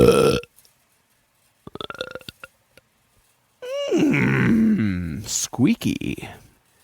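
Loud wet belch, long and gurgling with a squeaky rising edge, following a few short earlier vocal bursts and a brief silence.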